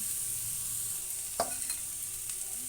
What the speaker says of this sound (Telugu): ఇందులో ఉడకబెట్టి చిరిముకున్న అంటే స్మాష్ చేసుకున్న బంగాళాదుంపల ముక్కలు వేసుకుందాము